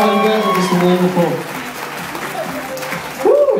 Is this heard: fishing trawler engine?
no